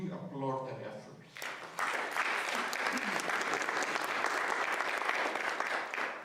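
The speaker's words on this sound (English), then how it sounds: "will you applaud their efforts?" An audience at a lecture on Indian cultural history breaks into sustained, dense applause that swells abruptly after a brief spoken moment, then holds steady and fairly loud to the end.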